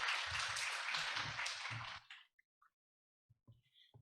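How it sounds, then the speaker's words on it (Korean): Audience at an academic forum on health functional foods applauding to welcome a speaker, with a burst of clapping that fades out after about two seconds, followed by near silence and a few faint knocks. "뜨거운 박수로 맞이해주시면 감사하겠습니다."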